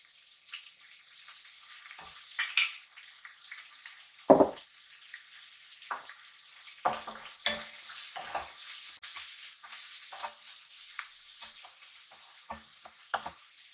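Prawns fry in a pan for seafood aglio olio pasta, giving a soft steady sizzle broken by irregular scraping and clattering stirs, with one sharp knock near the start and no voices.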